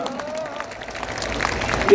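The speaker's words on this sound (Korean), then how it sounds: "여러분 큰 박수로 맞이해주시기 바랍니다." An audience at a political rally in Ulsan, South Korea, claps and cheers to welcome a guest speaker, the applause rising under crowd noise and some voices.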